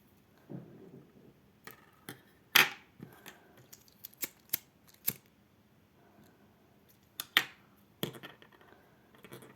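Scissors snip white thread during needle lace work, giving a handful of faint, sharp clicks and snaps scattered irregularly over near silence.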